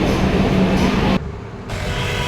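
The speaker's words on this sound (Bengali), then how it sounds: "তো মেট্রো চলে এসছে" A Kolkata Metro train at Kalighat station rumbles loudly, then the noise drops abruptly partway through, leaving a quieter hum of the station.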